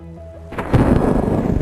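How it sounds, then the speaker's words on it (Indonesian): Thunder from lightning striking a corner of the Mandalika racing circuit in pouring rain bursts in suddenly after a quiet moment, a loud broad crack and rumble mixed with steady rain. "Saat hujan mengguyur, petir pun menyambar salah satu sudut sirkuit."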